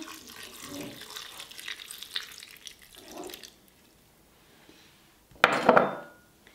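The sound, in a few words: pouring vinegar over a potato and lupin salad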